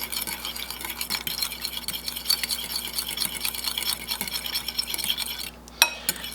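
Potato boxty batter being mixed in a bowl in a home kitchen, a steady wet stirring and scraping texture that continues throughout, ending with a brief knock of a utensil against the bowl.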